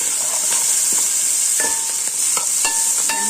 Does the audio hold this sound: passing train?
no